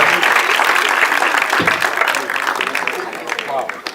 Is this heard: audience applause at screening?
yes